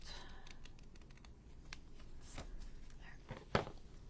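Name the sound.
trimming junk journal paper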